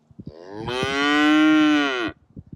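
A cow on a cattle farm gives one long, loud, close bawling moo lasting over a second, with faint knocks and rustles around it and no talking.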